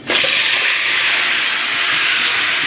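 Marinated chicken hits a hot pan for chicken korma and erupts into a loud, steady sizzle that holds strong and even throughout, close and with no talking.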